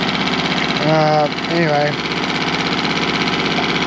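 A Tohatsu 6hp outboard motor with a newly replaced impeller runs at a steady idle, its loud, continuous buzzing drone close by, while someone talks briefly over it.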